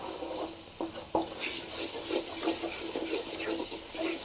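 Small onions frying in oil for a pickle, a soft, quiet sizzle with light stirring taps scattered through it.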